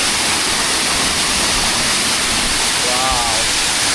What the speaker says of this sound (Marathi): खूप सुंदररित्या त्या ठिकाणी बांधलेला आहे धबधबा